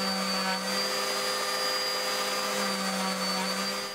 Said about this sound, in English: It's just basically a case of running the power sander across it a few times just to take the edge off.